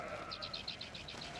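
Sheep bleat in the Alps: a quick run of faint, wavering calls pulses rhythmically over a soft outdoor background.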